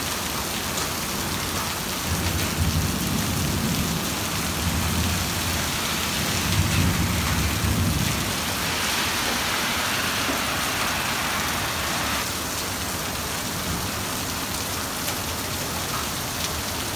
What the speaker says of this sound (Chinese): 冰雹了，我们也到家了